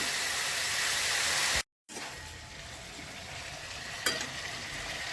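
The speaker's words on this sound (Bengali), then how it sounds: "ভালো করে কষিয়ে নিতে হবে।" Cauliflower is sautéed in a pan for moong dal, a continuous close sizzle and frying hiss with a brief gap and a stirring knock toward the end.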